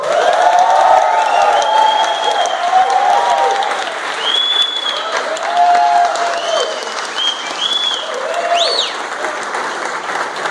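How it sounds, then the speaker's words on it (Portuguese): Loud sustained applause and cheering from an audience welcoming a comedian at a Brazilian event, dense clapping throughout with whistles and shouted cheers rising above it. "com uma salva de palmas, muitos gritos, muitos berros"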